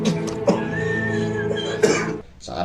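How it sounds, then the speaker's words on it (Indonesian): A man coughs in a few harsh, rough bursts, hacking and straining in a short close-up fit. "tiba-tiba tubuhnya gemetar diiringi dengan batuk-batuk hingga muntah darah"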